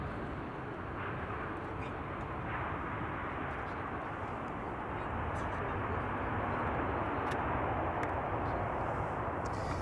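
A Transavia Retro airliner departs Amsterdam Schiphol Airport, producing a broad, steady jet roar that holds loud and constant, swelling slightly toward the end, with no talk over it.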